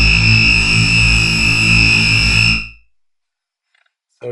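White noise from an Operator synth runs through a blur Max for Live effect, giving a loud, dense, ringing tonal wash with strong pitched resonances that cuts off abruptly into silence before a brief burst returns.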